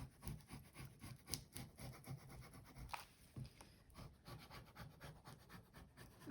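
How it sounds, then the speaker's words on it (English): Fabric being burnished down by hand onto a sewing journal page: faint, soft rubbing strokes repeating in a steady rhythm, with no talking. "I'm just burnishing that down. Make sure it's well stuck."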